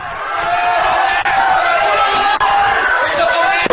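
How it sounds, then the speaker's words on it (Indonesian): Family members and colleagues cheer and call out in a loud, continuous crowd roar celebrating Ongen's acquittal at a district court, with voices overlapping throughout. "Bebasnya Ongen disambut sorak-sorai keluarga dan rekan"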